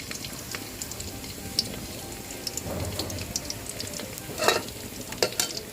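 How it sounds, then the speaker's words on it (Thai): Garlic frying in oil in a pan over medium-low heat, a soft steady sizzle with occasional sharper crackles and pops, fairly quiet and without speech. "จากนั้นเราก็จะใส่กระเทียมลงไปเจียวค่ะ"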